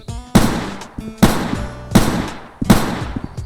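An Uzi fires in the survival video game A Long Road: four loud, sharp bursts about a second apart, each with a short ringing tail.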